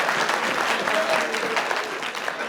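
Applause from the audience at a Hindi comedy poets' gathering, a loud dense burst of clapping that stays strong and then eases a little toward the end.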